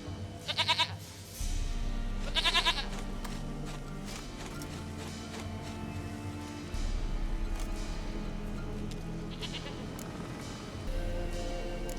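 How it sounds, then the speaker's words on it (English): Repeated goat bleats from The Witcher 3 video game, several short quavering calls spaced apart over a steady low in-game ambience. "Goat of mine, dearest, sweetest goat."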